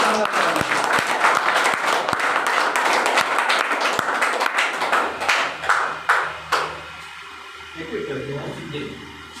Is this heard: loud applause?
yes